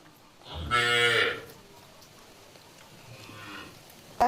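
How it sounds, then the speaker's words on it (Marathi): A newborn calf being bottle-fed lets out a single loud, close moo lasting under a second, followed by quiet cowshed ambience. "हे बघा, आरुष दूध पाजतोय गाय पिल्लूला."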